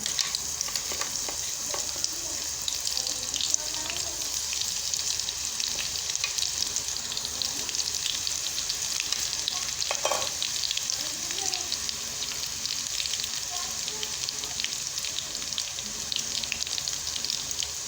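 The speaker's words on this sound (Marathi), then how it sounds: "हे पहा आपलं तेल गरम झालेलं आहे आपण थोडंसं पहिल्यांदा लसण टाकलेला होता" Garlic fries in hot oil with a steady close crackle and hiss, punctuated by a few scrapes and clinks from a utensil in the pan.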